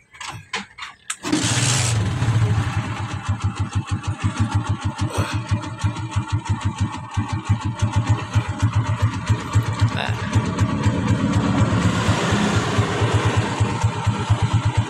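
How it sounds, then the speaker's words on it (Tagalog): A motorcycle engine cranks briefly and fires up, then settles into a steady, loud, rhythmic idle that keeps running close by. "So paandarin ko muna yung motor mga kamotodex."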